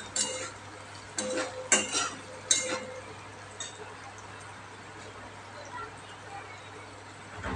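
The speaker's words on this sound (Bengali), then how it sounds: "আলুটা হালকা হালকা ভাজা হয়ে এসছে" Potatoes are stirred in a frying pan, giving a few sharp spatula clinks and scrapes near the start, then fading to a faint, quiet background.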